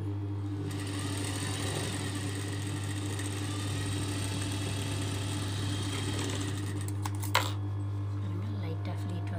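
A sewing machine runs steadily, stitching the edge of fabric for a crop top, a constant close mechanical whir that stops near the end with a brief clack.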